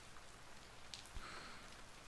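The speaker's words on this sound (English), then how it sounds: "It's still raining a little bit." Light rain falls in the Dream Daddy video game, a faint, steady patter with a couple of soft drips and thuds.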